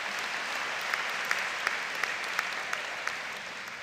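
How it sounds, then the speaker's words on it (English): Steady applause from a law school commencement crowd, a dense wash of clapping with a few sharper claps standing out, fairly even throughout. "give yourself a little round of applause there"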